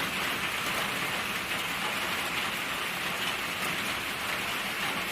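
Steady rain falls through a forest around a small hut, an even, unbroken wash of dense droplets with no voices.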